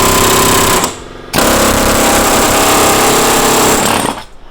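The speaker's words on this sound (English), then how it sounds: "We got the air hammer out." A loud pneumatic air hammer rattles rapidly against sheet metal for a custom transmission tunnel in two sustained bursts with a brief pause between, close and harsh.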